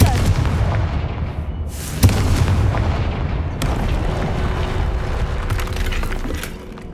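A Confringo blasting spell goes off in Hogwarts Legacy: a loud, booming explosion with a crackling, shattering burst, followed by rumbling debris and a second sharp crack, all close and heavy.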